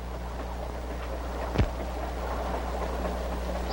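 Train running on a non-stop line to Seaside, a low steady rumble with a faint rattling bed and one brief whooshing rise midway, moderately quiet and continuous.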